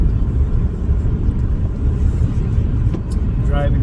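Steady low engine rumble and road noise from inside a moving car, continuous and fairly loud, with a brief faint click near the end.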